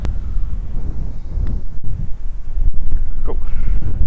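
Wind buffets a microphone on a golf course, a loud continuous rumble and roar with gusts rising and falling throughout.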